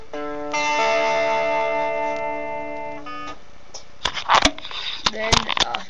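Electric or acoustic guitar chords ring out in a sustained strum, then give way to sharper picked notes and string hits near the end, played close and fairly loud.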